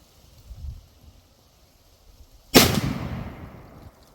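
A single loud shot from a .50 caliber sniper rifle fired at an AR500 steel body armor target: a sharp crack after near silence, followed by a long rolling decay.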